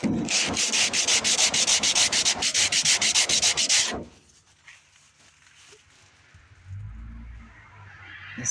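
Cheese grater rasp shaping featherweight Bondo body filler on a 1989 GMC Sierra 2500 truck: about four seconds of loud, rhythmic rasping strokes, then quiet scraping and handling noises.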